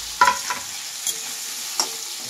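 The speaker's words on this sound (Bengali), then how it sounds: "লাউটাও ভাজবো" Bottle gourd frying in fish-frying oil in a pan, a soft steady sizzle with a few scraping stirs of the spatula near the start and end, no voices.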